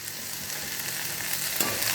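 Chopped okra fries with onions in oil, giving a dense, continuous close-up sizzle with no voices.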